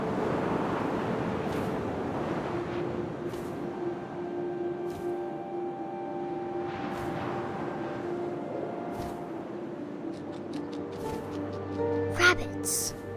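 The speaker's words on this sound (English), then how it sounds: "First, all I heard was the wind." Steady, low wind sweeping through an outdoor scene in the video game What Remains of Edith Finch, a continuous airy rush with soft tonal layers and occasional faint chimes, while a voice speaks over it.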